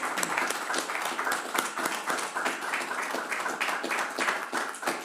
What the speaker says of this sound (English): I hope our audience members will help me give our candidates a round of applause